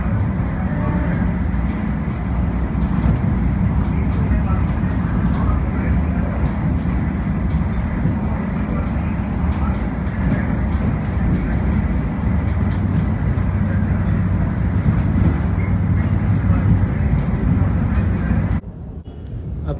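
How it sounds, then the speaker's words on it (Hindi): A Vande Bharat express train on the New Delhi to Varanasi route runs steadily with a continuous rumble and rattle from inside the carriage, ending in a sudden drop in noise. "अपनी ट्रेन भाई पहुंच चुकी है कानपुर सेंट्रल"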